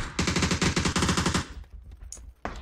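AUG assault rifle firing on full auto in a mobile battle royale video game, a fast, loud, even stream of shots for over a second, then a brief pause and a couple of single shots.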